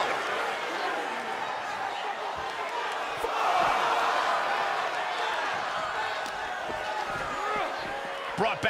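Arena crowd roaring in WWE 2K23 during a WCW Hog Wild '96 match between Eddie Guerrero and Ric Flair, a continuous cheering wash that swells midway, with thuds from the ring and commentary over it.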